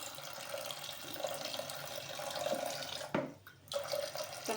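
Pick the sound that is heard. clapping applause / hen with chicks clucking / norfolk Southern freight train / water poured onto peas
water poured onto peas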